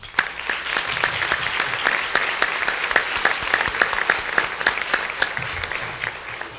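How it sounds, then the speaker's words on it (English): An audience at a chamber of commerce gathering gives a round of applause for its Founding Members Council, a steady spread of many hands clapping at moderate loudness, carrying on for several seconds with no voices over it. "just by a quick round of applause to the Founding Members Council"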